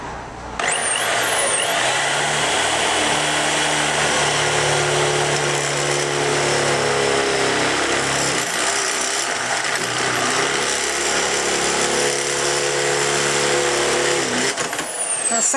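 A power drill bores holes into the body of a Mk3 Cortina Estate, a high whine that spins up sharply, then grinds at a steady pitch with brief strained dips mid-cut before winding down.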